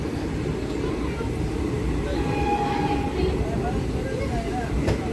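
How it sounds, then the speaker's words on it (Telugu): Nandigram Express, an ICF-coach train hauled by a WAP-4 electric locomotive, pulls away with a continuous low rumble and rolling clatter, faint squeals overhead, and a brief sharp click near the end. "వ్యాప్ 4 లోకతో వచ్చింది నాందిగ్రామ్ ఎక్స్ప్రెస్."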